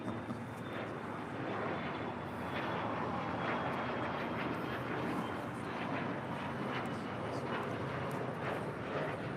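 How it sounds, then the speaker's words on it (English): A KLM Boeing Dreamliner from Amsterdam touches down on runway 25 left at LAX, its jet roar a broad, steady wash of noise that stays fairly distant and even throughout. "That is the KLM Dreamliner coming in from Amsterdam, flight 601, touching down on 25 left."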